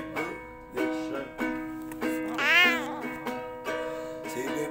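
A large cat meows repeatedly in a sequence of clear, close tonal calls, one drawn out and rising in pitch, with short pauses between them.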